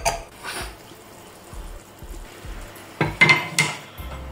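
Artichokes are drained briefly and tipped into a pan for a traditional Andalusian dish cooked in Montilla fino wine, giving a run of soft clinks and knocks from the pan and utensils with a few louder clatters and wet splashes near the end.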